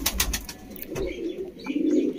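Pigeon in a fancier's loft, its low guttural coo rolling in short swells close by, with sharp rustles and clicks at the start and no talk.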